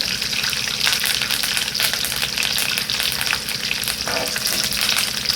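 Garlic and curry leaves crackle and sizzle loudly in hot oil, a dense continuous frying hiss with occasional stirring scrapes, close by and without talk.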